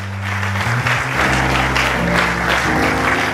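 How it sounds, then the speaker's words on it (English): A church youth congregation claps for a ministry group in a loud, steady burst of applause, with low sustained organ or keyboard notes sounding underneath. "Can you put your hands together one more time for Adonai Ministries?"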